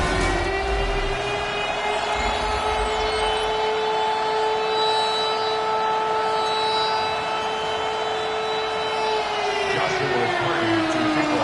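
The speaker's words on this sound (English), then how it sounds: "That sound of the big red siren brings the Cardinals and their fans to action." A loud, sustained stadium siren for the Cardinals wails on one steady pitch for several seconds, then slides downward near the end, filling the space without pause.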